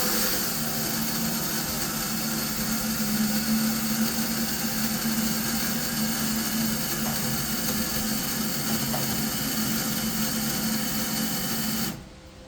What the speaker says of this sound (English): So we'll just turn the pump back on, build some pressure, make sure there's no leaks.